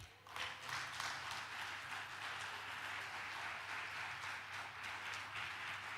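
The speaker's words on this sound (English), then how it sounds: "We can give another round of applause." Audience applause at a technology summit: steady, sustained clapping from a large crowd, evenly dense throughout and heard at a moderate distance, with no talking over it.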